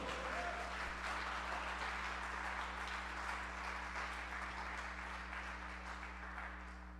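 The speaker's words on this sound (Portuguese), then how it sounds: "Aplauda o Senhor, querido." A church congregation applauds during a sermon, a continuous wash of many hands clapping that fades slightly toward the end, over a steady low electrical hum.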